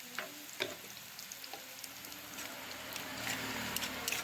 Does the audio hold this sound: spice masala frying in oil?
yes